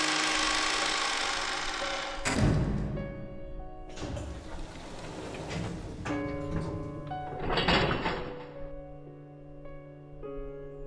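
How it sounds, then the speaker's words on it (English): A door thuds shut with a mechanical latch click in the video game Umineko, a few dull knocks and clacks set against sustained background music tones. "until the door closed and we heard the auto lock"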